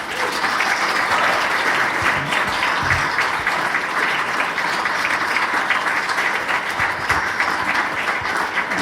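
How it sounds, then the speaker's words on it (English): Loud, continuous audience applause for Nico at a talk show held at the Australian Ambassador's Residence, dense clapping from a room full of people that runs unbroken for about nine seconds. "If we could have a round of applause for Nico."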